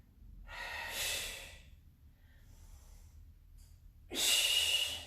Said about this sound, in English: Big exhale up there.